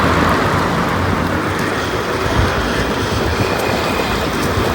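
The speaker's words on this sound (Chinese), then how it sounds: "有个链条的声音这个声音比刚刚那个还响" Steady loud rattling and rumbling from a riding vehicle's chain needing oil, continuous and close on a city road in Longyan, Fujian, with no talk.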